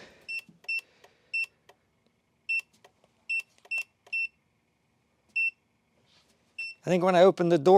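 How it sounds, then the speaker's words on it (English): A car alarm chirps in a series of short, sharp electronic beeps, irregularly spaced and fairly loud, with a person starting to talk at the end. "Oh, my alarm's going off."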